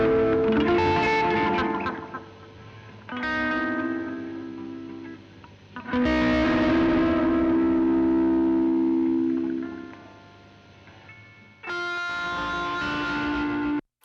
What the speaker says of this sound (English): So we got this cool guitar sound.